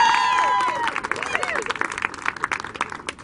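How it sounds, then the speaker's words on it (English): Audience at a mayor's event claps and cheers for students from Oneonta, a lively patter of hand claps rising after a short voice at the start, moderately close. "Let's give a cheer for the students of Oneonta."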